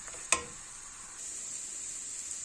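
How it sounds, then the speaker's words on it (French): Leeks frying in a pan with a little oil, a single soft clink then a steady, gentle high sizzle throughout. "je mets des poireaux à revenir dans une poêle avec un peu d'huile"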